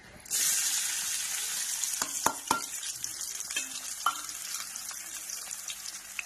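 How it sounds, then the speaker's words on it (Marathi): Chopped onion dropped into hot mustard oil sets off a loud, steady sizzle that holds for several seconds, punctuated by a few sharp clicks of a spoon against the pan; no one speaks. "मी टाकलं आता त्यात कांदा"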